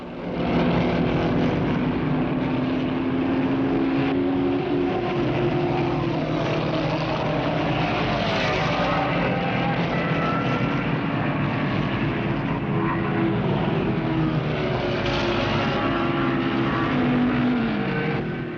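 Racing car engine on a test drive with the driver probing the car's handling, a loud continuous drone that holds steady and rises and falls slightly in pitch for the whole stretch, alone without talk.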